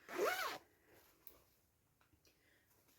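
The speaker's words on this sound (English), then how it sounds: "It does zip up" A zipper on a lined cross stitch project bag is pulled shut in one quick, close rasping stroke, followed by quiet handling.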